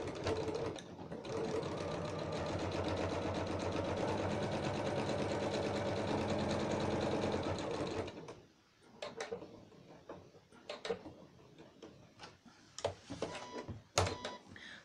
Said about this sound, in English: what I love with my machine is I can go back to clappers, or I can do one stitch at a time